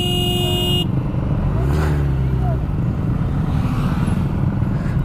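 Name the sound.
car horns honking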